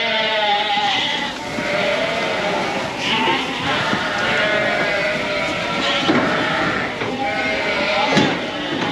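Sheep bleat repeatedly against a steady, noisy outdoor background, with calls rising now and then above the din.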